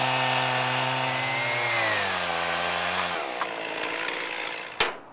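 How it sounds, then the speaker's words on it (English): A chainsaw cuts through a log being shaped into a bench, its loud engine droning steadily and dropping in pitch as the chain bites into the wood, ending with a sharp knock near the finish. "I think is the easiest way for anyone with any chainsaw to achieve this nice cut."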